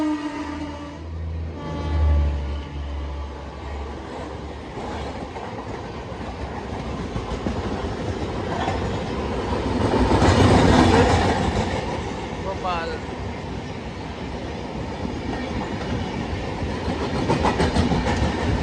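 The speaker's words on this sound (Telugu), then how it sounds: "మనం ఏదో ట్రైన్ క్రాస్ చేయబోతున్నాం." A passing train crossing alongside the Dakshin Express on an Indian railway line: a loud rumbling swell of rolling wagons peaking mid-way, over steady carriage noise, with a horn-like tonal sweep near the start and brief talk.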